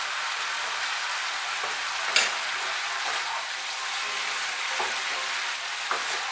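Cumin powder and sugar being stirred into pui greens frying in a pan, a steady broadband sizzle with a few soft scrapes and clinks of the spoon, close and continuous, no talking.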